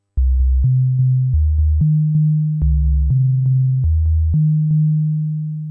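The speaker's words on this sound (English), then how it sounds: "does it do that really low bassy rumble? I think we can say yes" A deep synthesizer bass plays a sequence of low, stepped notes with faint clicks at each change, ringing steadily and fading slightly at the end.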